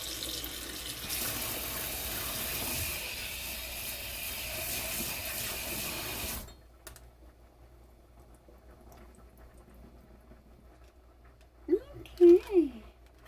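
Canned beans being drained at a kitchen sink, a steady hiss of liquid pouring out for several seconds before stopping abruptly, followed by near silence and a brief clunk near the end.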